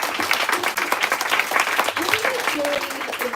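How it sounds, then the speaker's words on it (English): An audience at a book talk applauds, continuous crowd clapping heard fairly close and steady throughout, with some voices mixed in. "Everyone, can you applaud for Grania"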